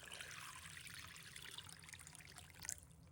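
Clean water pours into a bowl holding dried squid, dried shrimp and dried mushrooms, a faint, steady trickle and splash lasting the whole stretch with a small clink near the end.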